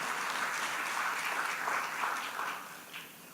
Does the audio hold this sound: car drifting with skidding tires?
no